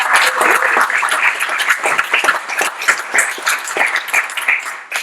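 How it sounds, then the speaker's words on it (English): Audience applause fills the room, a dense steady clapping from a crowd that stays loud throughout and tapers slightly at the end, with no talking over it. "Round of applause."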